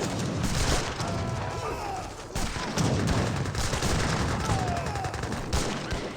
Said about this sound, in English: The arquebuses are just getting annihilated by the Gatling guns.